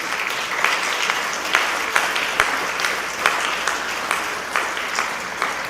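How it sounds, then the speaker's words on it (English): A round of applause from students, a steady crowd of clapping at moderate distance with scattered sharper claps standing out, continuing throughout. "give yourself a round of applause"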